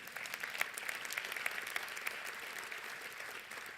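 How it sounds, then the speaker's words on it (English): Audience at a state STEM summit applauding themselves, a fairly faint, distant-sounding wash of steady clapping in a large hall, with a few crisp claps popping out early on. "yeah, go ahead and applaud yourselves."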